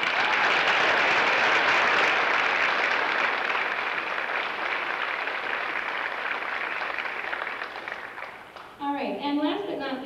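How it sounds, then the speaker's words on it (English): Dense, sustained applause from a high school choir spring concert audience fills the hall, a loud, even wash of many hands that tapers slightly before a voice begins speaking near the end. "Let's give those guys a round of applause."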